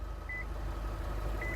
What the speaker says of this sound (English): it's smart enough to beep at you when it senses that the key is not in